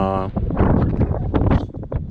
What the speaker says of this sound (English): Oh man, it's super windy.